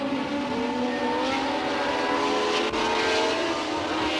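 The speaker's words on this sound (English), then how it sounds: "Jarier in the shadow with its Cosworth DFV engine taking up the running in third place." A Shadow Formula 1 race car with a Cosworth DFV engine screams steadily at high revs during the 1976 Brazilian Grand Prix, a loud continuous engine wail with no voices.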